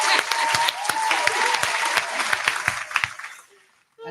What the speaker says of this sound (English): So yeah, I'm clapping again.